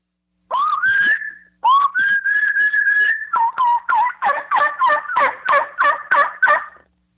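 A diaphragm mouth call imitating a turkey's fall whistle: two long rising whistles, then a quick run of short yelping notes, loud and close.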